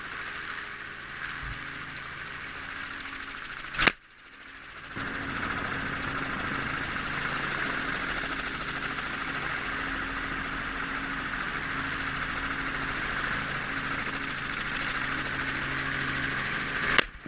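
A helicopter drones steadily overhead during a mule deer capture, its engine and rotor wash a constant, fairly loud hum broken by one sharp knock or thump partway through and another near the end.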